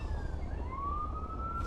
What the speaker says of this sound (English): sorry by the way about the ambulance noise in the background